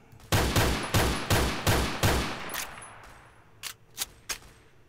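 Gunfire in the Roblox Phantom Forces video game: a quick burst of five loud, evenly spaced shots with trailing echo, then three fainter single shots.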